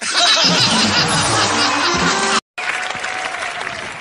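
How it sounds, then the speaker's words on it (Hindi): A live comedy show audience bursts into sustained applause mixed with laughter and chuckles. The crowd noise cuts out for a moment, then resumes a little softer. "इतनी तालियां बजा रहे"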